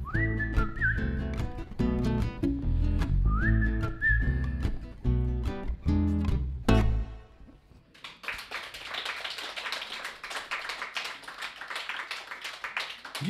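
A man whistles a song melody at a song club concert in St. Petersburg, the clear tune running over a few seconds of rhythmic claps and taps before giving way to a wash of applause.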